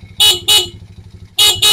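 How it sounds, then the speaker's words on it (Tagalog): Two pairs of loud, short honks from a motorcycle horn wired with a capacitor blare close by, separated by a brief pause over an idling engine hum. "Malakas pa yung busina"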